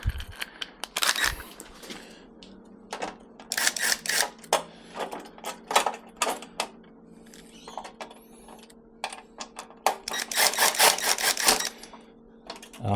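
Short bursts of a cordless drill driving screws into a 3D-printed bench top, repeated in quick runs with pauses between, close by and fairly loud.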